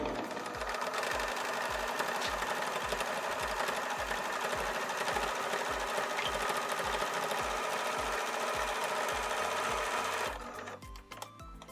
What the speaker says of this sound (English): So I've sewn pretty much right over the edges there.